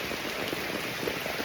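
Rain falls steadily in a dense, even hiss of drops on surfaces, continuous and fairly close, with no voices heard.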